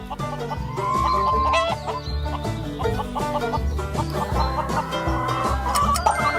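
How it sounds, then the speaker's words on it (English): A chicken clucks repeatedly over a steady, loud musical backing with a regular beat, the fowl calls blending into the rhythmic accompaniment throughout. "It's a chicken."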